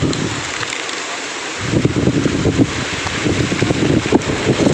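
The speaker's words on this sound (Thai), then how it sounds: "ลมแรงมากนะครับ" Strong wind buffets the microphone at a monastery in a Karen village in a mountain valley, Mae Hong Son, a loud continuous roar with gusting surges and no talking.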